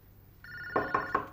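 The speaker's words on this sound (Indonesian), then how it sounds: "Ada telepon tuh!" A telephone bell rings indoors in a rapid trilling burst that starts partway through, with a few louder pulses standing out over a low room hum.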